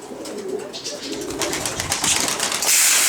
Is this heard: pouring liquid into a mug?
no